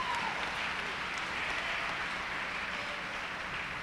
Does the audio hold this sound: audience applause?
yes